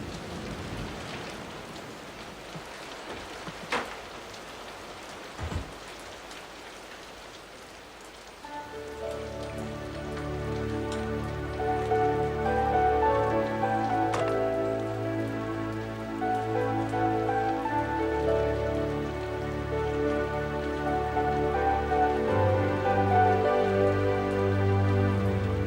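Steady rain patters on a surface throughout, a dense hiss of drops that continues as sustained tonal background sounds swell in a few seconds later.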